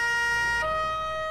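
A Carabinieri escort vehicle in Farming Simulator 19 sounds its siren, a loud steady electronic wail that drops from a higher to a lower tone partway through, alone without talk.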